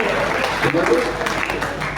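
Applause breaks out from the audience at a Hindi kavi sammelan poetry recital, a broad wash of clapping lasting a couple of seconds while a voice carries on over it.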